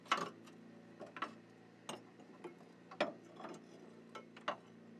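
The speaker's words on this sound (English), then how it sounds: "again using a half-inch drive ratchet with a 15mm socket" A half-inch drive ratchet with a 15mm socket loosens a bolt on the rear upper control arm of a Volvo, giving a quiet, close series of irregular clicking ticks.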